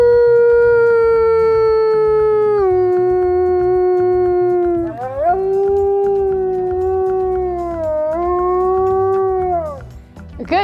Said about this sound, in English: he recognizes that howl and knows to howl back to indicate his location